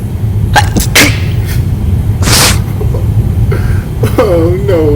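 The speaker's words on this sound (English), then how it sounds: "You just sneezed on everything." A person sneezes over food being cooked: several sharp, loud sneezes and sniffs burst out close by over a steady low background hum, followed by a voice with a rising, exclaiming tone.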